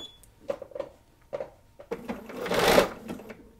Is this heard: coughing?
no